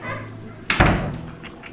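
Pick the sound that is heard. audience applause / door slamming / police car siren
door slamming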